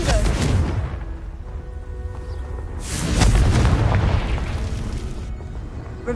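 Loud rumbling booms from the Confringo fire spell in Hogwarts Legacy, with two heavy blasts a few seconds apart and their lingering crackle.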